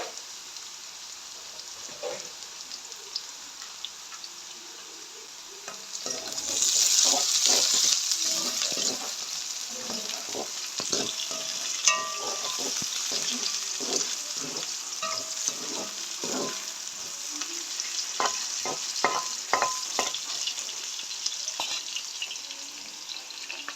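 Half-fried onions with curry leaves sizzle in a pan for a chicken curry, a continuous close frying hiss that swells after the leaves go in, dotted with stirring scrapes and clicks.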